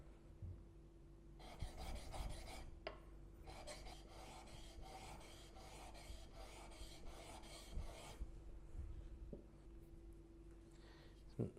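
A steel blade bevel is rubbed on a coarse or diamond sharpening stone in a steady run of rasping back-and-forth strokes for several seconds, then stops, leaving only faint handling sounds and a low background hum.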